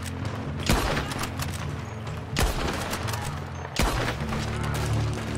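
Shotgun fire in the Red Dead Redemption 2 Online video game: three heavy, booming blasts spaced about one and a half seconds apart, loud and near, over a dense background of game noise.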